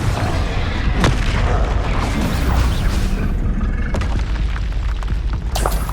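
Loud booming spell explosion from the Confringo fire curse in Hogwarts Legacy, a dense rumbling blast with sharp cracks near 1, 4 and 5.8 seconds over constant low roar.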